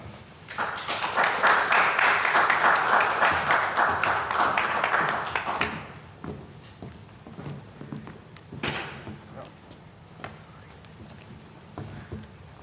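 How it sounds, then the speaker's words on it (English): An audience claps after a speech at a school event, a dense burst of applause for several seconds that thins into scattered claps and fades as a few last hands keep going. "I hope you're all clapping for Gary out there"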